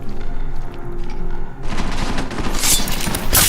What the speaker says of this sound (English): We just use the silenced pistol, which can be very deadly and very quiet.